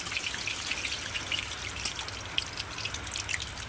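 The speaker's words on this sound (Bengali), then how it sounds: "হালকা হালকা বৃষ্টি হচ্ছে" Light rain patters steadily outdoors, a soft continuous hiss with scattered small drips, no voices.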